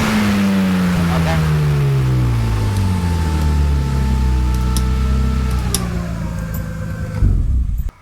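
A BMW E36 race car engine revs hard at full throttle, a loud sustained roar with pitch climbing and sweeping, close by, then cutting off abruptly near the end.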